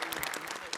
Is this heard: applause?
yes